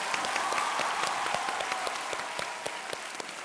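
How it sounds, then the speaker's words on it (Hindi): A studio audience on the KBC game show applauding for Ranbir Kapoor, dense steady clapping from many hands that holds loud and even for the whole stretch. "Big hand for Ranbir Kapoor."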